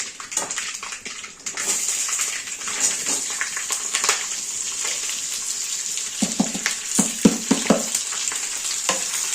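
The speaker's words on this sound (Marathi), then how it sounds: "सगळ्या मिरच्या मी टाकून घेतले आणि थोडंसं हलवून घेतो जास्त पण म्हणजे आपल्याला यांना थोडं तेलावर परतायचं" Green bell peppers frying in oil with curry leaves for a spiced capsicum dish, a continuous hissing sizzle with occasional stirring clatters growing busier toward the end, with no voices.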